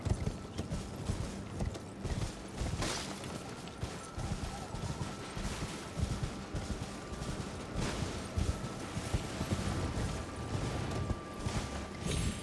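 Horse hooves clop steadily as a rider travels on horseback through the open world of Elden Ring, with a continuous patter of steps and faint creaks over a constant ambient game backdrop.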